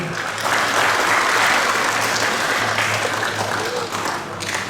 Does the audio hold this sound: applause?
yes